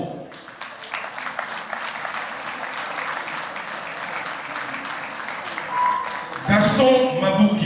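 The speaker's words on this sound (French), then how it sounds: "Je voudrais que vous puissiez applaudir Albert Moquet Apro." Steady applause from an audience fills most of the clip, a dense patter of clapping that swells slightly near the end with voices and noise.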